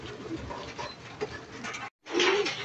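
Pet pigeons in a home loft coo softly amid a rustling background, with a short gap before a louder, closer cooing burst toward the end.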